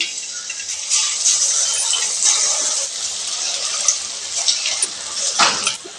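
Bonda batter sizzles and crackles steadily in hot oil for a snack made from idli batter, a loud, close, continuous hiss with small pops and a brief clatter near the end.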